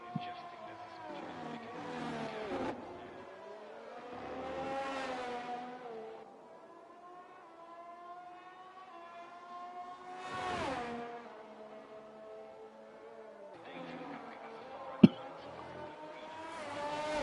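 An AlphaTauri Formula 1 car races in a video game at the Canadian Grand Prix, its engine note rising and falling through gear changes across several passes, under steady race commentary.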